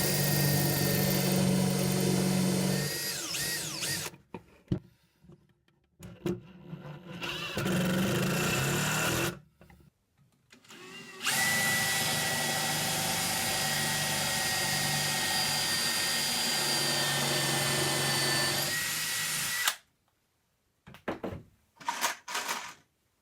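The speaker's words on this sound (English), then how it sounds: "I'll countersink the holes from the inside." A power drill countersinks screw holes from the inside of a wooden desk pedestal in several loud whirring bursts of a few seconds each, broken by short pauses and small clicks.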